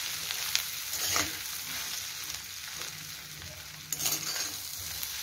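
Kothu chapathi frying in oil while being stirred, a steady close sizzle broken by a few sharper scraping stirs.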